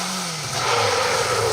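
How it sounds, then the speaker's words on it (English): Close and loud, a rally car engine screams at high revs on a forest rally stage, dropping pitch briefly at a gear change before pulling hard again. "That is a great sounding car"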